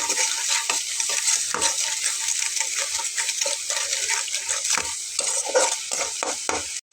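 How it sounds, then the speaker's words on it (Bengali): Spice paste and yogurt fry in oil with a constant close sizzle, while repeated stirring strokes scrape and splash through it in an uneven rhythm, loud and unbroken until a sudden stop at the end. "দইটা দিয়ে খুব ভালো করে একদম কষিয়ে নিতে হবে মশলাটা আর তেলটা আলাদা হয়ে যাবে"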